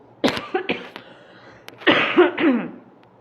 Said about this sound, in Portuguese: Peraí, tava tossindo.